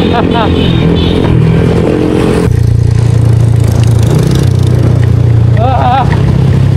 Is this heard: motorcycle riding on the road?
yes